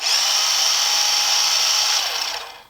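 A toy remote-control car's motor gives a steady high-pitched whir that runs continuously for a couple of seconds, then winds down and fades at the end.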